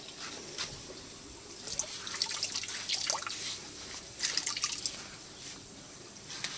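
Salty water from an Artemia brine shrimp culture tank poured out, a steady close trickle and splash with gurgling bursts, swelling and easing over a few seconds.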